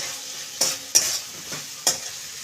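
Spoon stirring a Bengali malabar spinach and taro curry in a hot pan, with three or four sharp scraping strokes over a steady soft sizzle, close and clear with no talk.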